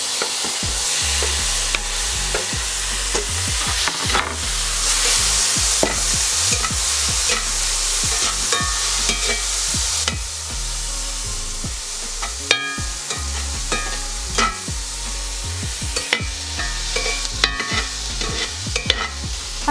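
Tomatoes frying in a pan for seafood spaghetti, a loud, steady sizzle with frequent scraping and clinking of a utensil against the pan as they are stirred.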